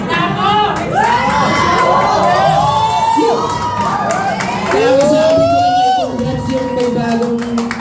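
An audience at a coaching event cheers and shouts, with rising and falling whoops and excited voices over a loud crowd roar, sustained throughout and mixed with some clapping.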